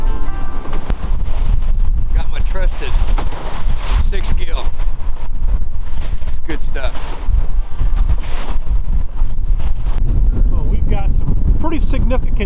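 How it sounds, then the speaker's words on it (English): Strong wind buffets the microphone out on a rough lake, a constant loud roar with gusty rumbling beneath several people talking. "Very, very windy."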